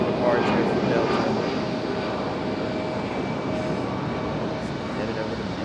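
A Delta Airbus A320 jet departs Raleigh-Durham International Airport, its engines a loud, steady roaring rumble that fades slightly as it climbs. No one speaks.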